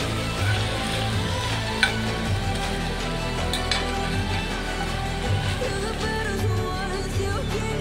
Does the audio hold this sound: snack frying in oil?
yes